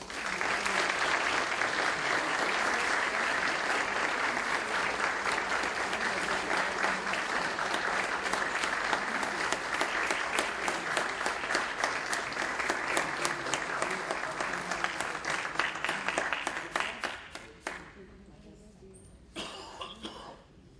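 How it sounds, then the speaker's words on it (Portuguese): Sustained audience applause at an opening ceremony in Paraná, Brazil, honouring amnesty recipients, with scattered coughs and throat clearing, tapering off near the end into sparse claps. "Vamos aplaudir"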